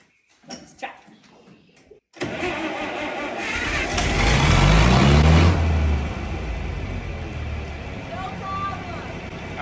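A 59-year-old tractor engine cranking and catching after a brief quiet gap, then running loud with a low rumbling idle that rises and settles, with talk over the start.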